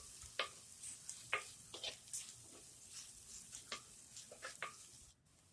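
Finely chopped onions sauté in a pan for a squid thokku, a soft, steady sizzle with occasional scrapes and taps of stirring, fairly quiet and close.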